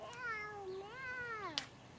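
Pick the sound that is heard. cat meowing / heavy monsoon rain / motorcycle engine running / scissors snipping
cat meowing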